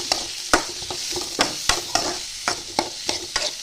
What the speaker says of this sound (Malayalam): നമ്മളിങ്ങനെ അതിങ്ങനെ ഇളക്കണം